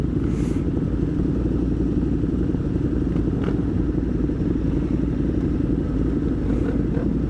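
A KTM twin-cylinder motorcycle engine runs loud and close while riding, a steady, rough, continuous rumble with light clatter and no talk.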